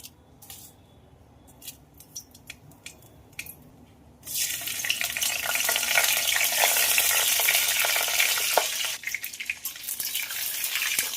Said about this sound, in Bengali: ডাল ফোড়নের জন্য তেল গরম হয়ে গেছে, আর এখানে নিয়েছি একটু রাঁধুনি, একটু জিরে, আর কটা শুকনো লঙ্কা আর তেজপাতা